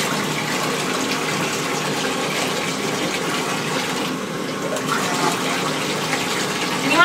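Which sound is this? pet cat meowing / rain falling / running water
running water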